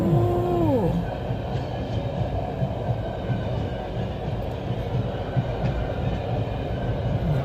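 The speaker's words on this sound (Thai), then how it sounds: "เดี๋ยวเรามาดูรถไฟวิ่งกันวู้" A train rumbles past a level crossing steadily and loudly, with a horn-like tone at the start, then a continuous rolling roar of wheels on the track.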